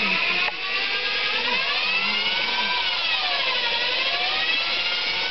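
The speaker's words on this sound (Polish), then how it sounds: "Zrobiliśmy mikser z wiertary" A power drill used as a kitchen mixer to make soup whirs loudly and continuously, its motor pitch rising and falling slightly as it spins, close up and alone.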